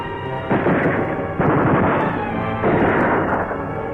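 Battle din of gunfire and artillery from a 1946 Marine Corps film, rolling low booms and muffled blasts coming in heavy waves, dense and continuous with a narrow, old-recording tone.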